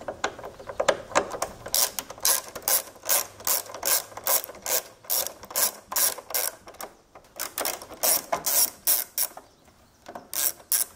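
A hand ratchet with a T15 Torx bit backs out grille screws on a WS6 Trans Am, clicking in quick repeated bursts of rapid pawl ticks with brief pauses between strokes, close and clear.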